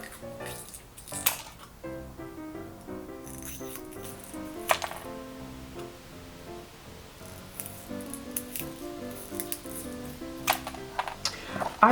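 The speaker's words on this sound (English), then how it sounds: "I guess the shape that we're going with is triangle because it's really easy to cut the CDs in straight lines." Scissors cutting old CDs into triangle pieces, a quiet run of irregular snips, crackles and clicks, close and without talk.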